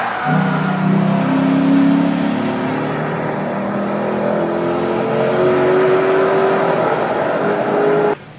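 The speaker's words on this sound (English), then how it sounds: "It sounds like a big V8" A big V8 engine revving and accelerating through rising gear pitches, loud and close, its rumbling drone sustained until it cuts off abruptly.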